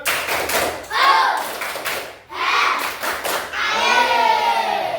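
Schoolchildren performing the tepuk semangat clap routine in an Islamic studies classroom, several rhythmic groups of claps interleaved with chanted voices, close and energetic, ending in a sustained spoken call.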